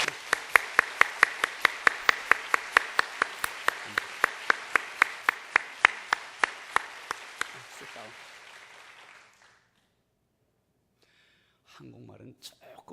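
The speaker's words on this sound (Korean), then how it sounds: "우리 박수로 한번 환영하겠습니다." An audience claps together in a steady, rhythmic beat to welcome a guest, the claps fading out after several seconds into near silence with faint murmuring at the end.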